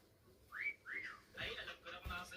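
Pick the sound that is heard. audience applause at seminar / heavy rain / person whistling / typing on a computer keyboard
person whistling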